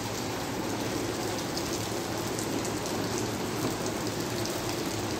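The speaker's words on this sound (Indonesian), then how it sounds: "Ini hujan dari tadi, dari jam berapa?" Heavy rain pours down steadily at Masjidil Haram, a dense, even wash of hiss and patter that fills the whole stretch without letting up, with no voices over it.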